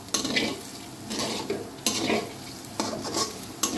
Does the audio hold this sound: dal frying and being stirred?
yes